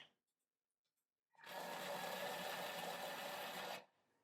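A kitchen mixer whirs steadily on speed 5 for about two and a half seconds, blending a chocolate and ginger truffle mixture, starting and stopping abruptly with near silence on either side.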